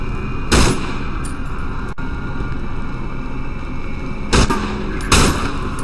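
Gunshots fired at the player in the Cry of Fear game, three sharp loud bursts spaced a few seconds apart over a constant low ambient hum.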